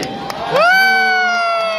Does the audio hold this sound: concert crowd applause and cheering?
yes